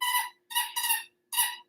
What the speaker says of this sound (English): Sorry if you can hear that squeaking in the background.